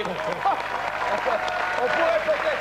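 An audience claps in a light, scattered round of applause while voices talk over it.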